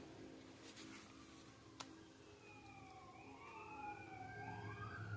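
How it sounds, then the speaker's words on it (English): Distant emergency sirens wail with rising and falling tones, faint and far off over a quiet background hum, with a brief click partway through. "And you can hear the sirens in the background as well."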